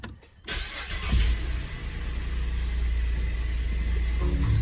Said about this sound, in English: let's fire him up and see if we've got any brakes